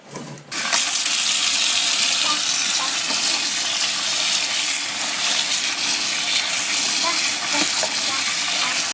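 Egg mixture stirred in a pan with chopped tomato, spinach and bell pepper on the way, giving a steady, close, broadband sizzle and scraping hiss that runs unbroken for several seconds after a brief soft start.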